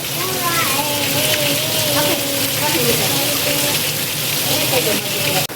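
Heavy rain pours down steadily and without letup, a dense close hiss, while people talk over it throughout.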